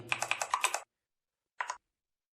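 A computer keyboard is tapped in a quick burst of about seven close, crisp keystrokes for Ctrl C and Ctrl V shortcuts, then a short silence and one more quick double tap.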